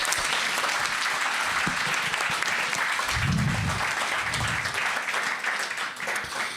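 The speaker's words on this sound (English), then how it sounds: "Round of applause." An audience at a London science talk night applauds in a sustained, even roar of clapping that fills the whole stretch, with a couple of brief low voice murmurs mixed in.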